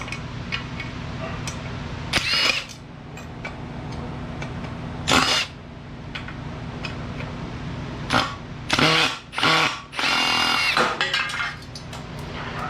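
Screws are removed from the handle of an old Craftsman radial arm saw: several short, loud mechanical bursts close by, separated by quieter pauses, with no talking.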